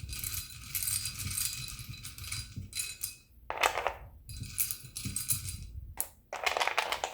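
Small metal letter charms and trinkets clink and tap as they are picked through and handled, giving quick irregular jingles and clicks with short pauses, close and fairly quiet.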